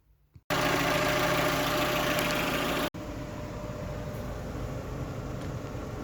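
A Peugeot 307 with a 1.6 16v petrol engine idles steadily, close by and fairly loud, with a brief break partway through before the even running resumes.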